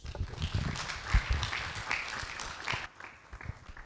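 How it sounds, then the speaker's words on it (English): A small audience claps for Professor Dan Slater after a morning discussion, uneven near claps and taps for a few seconds that thin out abruptly toward the end. "let's thank Professor Dan Slater for very enlightening discussion this morning by giving him a big round of applause"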